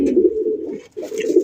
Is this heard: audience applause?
no